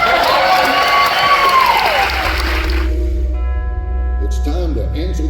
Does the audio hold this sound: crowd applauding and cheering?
yes